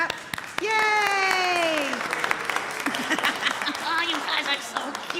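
An audience claps steadily through the clip, with excited voices and a cheer rising over the applause.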